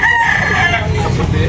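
A rooster at a chicken market in Tabunok, Talisay crows loudly and close, one sustained cock-a-doodle-doo with no pause in it.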